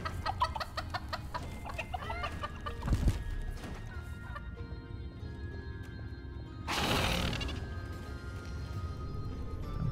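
Chickens cluck repeatedly in the video game Dungeons 4, with a run of quick clucks early on and a louder burst later over steady game ambience.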